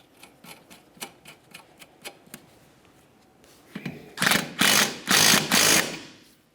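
Nut threaded onto a new rear upper ball joint on a 1994-1997 Honda Accord: a run of quick, light ratchet clicks close by, then several louder, harsher rasping bursts as it snugs tight.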